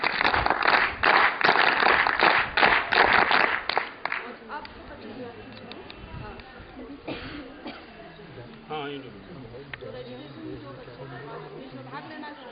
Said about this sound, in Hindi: अतिथि एक बार जोरदार ताली